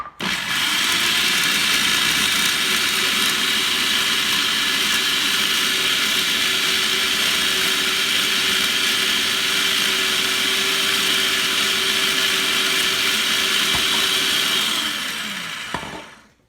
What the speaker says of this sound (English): And I'll just keep blending it, adding a little at a time as I need it